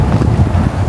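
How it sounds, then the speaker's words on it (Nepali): Cold wind blows hard across a hilltop ridge above Kathmandu, roaring and buffeting the microphone in loud, uneven low gusts. "यताबाट यस्तो चिसो हावा आइरहेको छ।"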